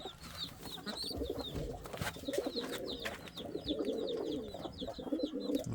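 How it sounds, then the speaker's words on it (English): Indian fantail pigeons coo steadily in a breeding loft, with soft low murmurs running under repeated high chirps from other birds nearby. "That's a beautiful pigeon right there."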